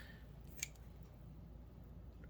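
Kitchen scissors kept only for cooking give one sharp, brief snip while trimming raw chicken, faint against a quiet, hissy room background.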